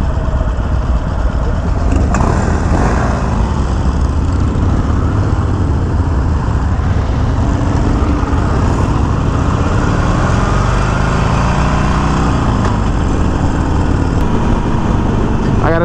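A Harley-Davidson Iron 1200 motorcycle from 2020, running its stock exhaust pipes, drones steadily on a ride, loud and close with a constant low rumble and slight pitch shifts, with no voices.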